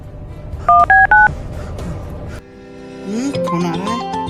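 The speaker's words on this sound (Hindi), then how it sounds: "फोन आ रहा है।" A few electronic tone beeps sound in quick succession, followed by a louder warbling electronic telephone ring.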